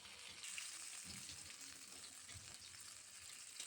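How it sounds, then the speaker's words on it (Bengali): Bhola fish fry in hot oil, giving off a soft, continuous sizzle with no voices over it. "দেখো আমি মাছগুলোকে ভালো করে ভেজে নেব। আমি 2 পাশ ভালো করে ভেজে নিয়েছি।"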